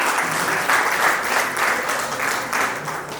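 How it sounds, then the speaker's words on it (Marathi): Loud, steady applause from a crowd cheering a birthday girl at a birthday celebration, clapping sustained throughout without pause. "एकदा तिच्यासाठी जोरदार टाळ्या."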